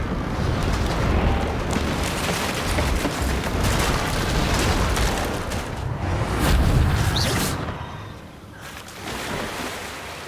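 Incendio fire spell blast cast in the Hogwarts Legacy video game, a loud, sustained roaring whoosh of flame with rumbling booms, continuous for several seconds before easing slightly near the end.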